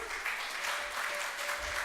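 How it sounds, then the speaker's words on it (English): An audience at a startup pitch day event claps steadily for a speaker welcomed to the stage, a sustained, even wash of applause from a crowd throughout. "Let's give him a round of applause"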